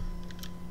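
A value is typed on a computer keyboard as a few quick, light key clicks in a short burst over a low steady room hum, close to the mic.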